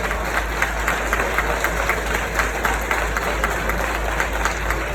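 Steady applause from a crowd at a French-speaking civic gathering honouring an honorary mayor, with dense clapping sustained evenly throughout at a moderate distance.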